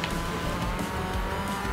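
In Forza Horizon 4, a car drifts through a circuit race with its engine roaring and its tires squealing and scrubbing in a continuous loud sweep. Other racers' engines sound around it, and no talk is heard.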